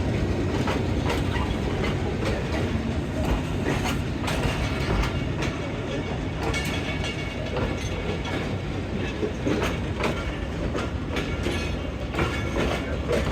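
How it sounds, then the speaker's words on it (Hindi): The 16 Down Karachi Express rake rolls into platform 4 at Lahore Junction, a loud continuous rumble of railcars with a steady clickety-clack of wheels over rail joints, close by and unbroken throughout. "16 डाउन कराची एक्सप्रेस का रेक प्लेस हो रहा है लाहौर जंक्शन के प्लेटफार्म नंबर 4 पे"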